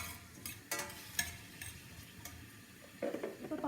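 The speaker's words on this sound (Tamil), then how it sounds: "இது கொஞ்சம் நல்லா வதங்கணும்" Carrots and tomatoes sauté in a pan, a soft sizzle broken by several scraping stirs of a spoon and occasional clinks, close and fairly quiet.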